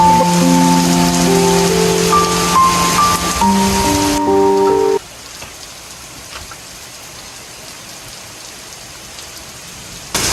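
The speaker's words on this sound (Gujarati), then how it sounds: "અત્યારે કેટલો ફાસ્ટ વરસાદ આવે છે" Heavy rain driven by strong wind roars as a broad, loud hiss, with sustained musical tones over it for the first five seconds before the downpour continues alone at a lower level.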